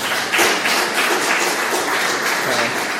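Audience applause in a presentation hall after a demonstration of silent speech commands on a mobile phone: a steady, dense patter of clapping that fills the whole stretch at an even, moderate level, with no talking.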